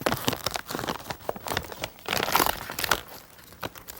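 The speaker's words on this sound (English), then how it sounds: "We got these great tortilla chips that we're just going to rip open." A bag of tortilla chips ripped open up close, a loud continuous crinkling and tearing of plastic packaging lasting a few seconds.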